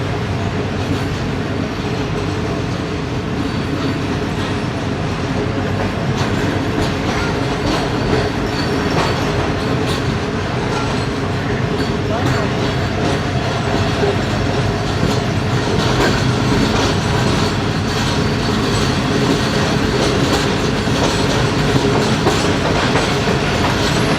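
The 101 Up passenger train departs Lahore with a loud, continuous rumble of wheels and carriages and a steady clickety-clack, heard close and unbroken throughout.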